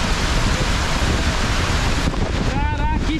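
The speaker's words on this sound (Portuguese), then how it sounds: "Caraca, que chuva." Heavy rain driven by strong wind, a dense, loud, continuous hiss and roar that fills the whole clip, with faint voices emerging near the end.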